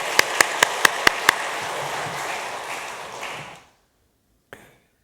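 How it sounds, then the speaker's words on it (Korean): A church congregation claps after a musical performance at a Sunday worship service, a dense, steady wash of applause from many hands with a few sharp nearby claps at the start, fading out before a brief faint knock. "감사 박수를 하겠습니다"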